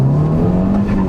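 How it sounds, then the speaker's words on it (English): A 2013 Volkswagen Golf R accelerating, its engine and intake giving a loud, close, steadily rising drone with a strong low tone that climbs in pitch throughout the short burst. "Another acceleration."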